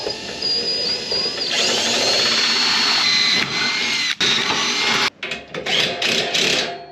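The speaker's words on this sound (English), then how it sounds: "So now I just got to drill new holes and put this plate on right here." A power drill bores new holes for a roof rack mounting plate on a vehicle, a loud close whine that runs steadily, then breaks into short stop-start bursts.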